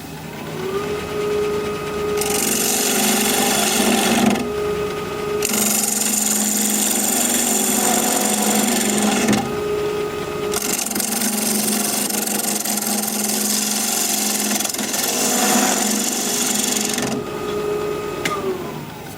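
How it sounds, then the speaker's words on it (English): A 1/2 inch standard grind bowl gouge cuts wood on a lathe spinning at 1400 RPM, giving a steady motor whine with broadband scraping bursts that stop and restart several times, close and loud with no talking. "we're going to start with a 1/2 inch standard grind bowl gouge, all freshly sharpened up. We're going to be turning at 1400 RPM"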